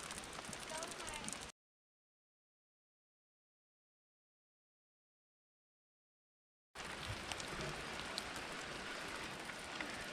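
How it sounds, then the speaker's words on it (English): Steady rain hisses across a surface, then cuts to total silence for several seconds before the dense patter returns just as loud. "Of course, it's starting to rain."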